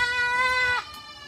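A Boer goat kid playing on a farm gives one clear, close, drawn-out bleat that drops off abruptly, with faint background noise after.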